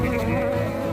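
Bees buzzing in a steady, continuous drone, close and fairly loud, with no voices over it, in a scene from a Hindi supernatural TV drama.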